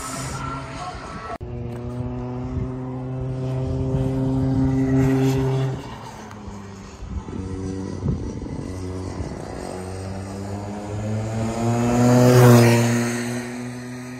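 Rental racing go-karts roar around an outdoor kart track with Mount Fuji in view, a steady buzzing engine drone that rises and falls as karts pass, swelling loudest near the end.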